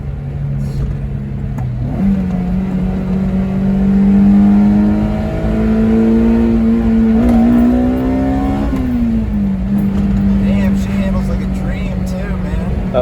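A Honda S2000 with a swapped F20C engine and AP2 transmission revving hard at full throttle, its pitch climbing through the gears with a shift drop, loud and close from inside the car while people talk.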